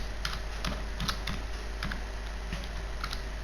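Keys clatter on a computer keyboard as C code is typed, a quick uneven run of close clicks over a steady low hum.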